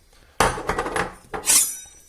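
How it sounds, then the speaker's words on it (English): A knife chopping garlic on a board in a home kitchen while making spaghetti bolognese: a few sharp, close knocks and clicks in quick succession, with a short pause between bursts. "by finely chopping the garlic up"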